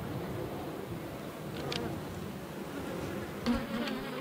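Bees swarm around beehive frames holding possible drone brood, a dense continuous buzz at close range with a few sharper individual bees passing near.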